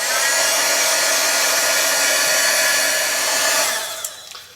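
A heat gun blows hot air to dry a mixed media artwork. Its loud, steady whooshing whir holds evenly, then dies away in the last moment with a few small clicks.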